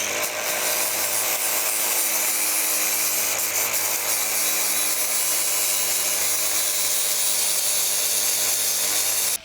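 Steady, loud grinding as a tool takes down the tops of weld beads on metal. A continuous abrasive whine and hiss runs without a break, close to the listener and with no speech.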